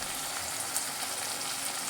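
Tomato pieces frying with chopped onion in a pan, a steady, dense sizzle running alone and evenly throughout, with no voices over it.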